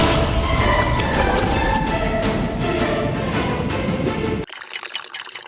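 Water pours in a steady, loud, continuous rush over a Lego build to simulate a flood, then cuts off abruptly into faint drips and trickles.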